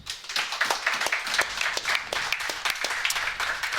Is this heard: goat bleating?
no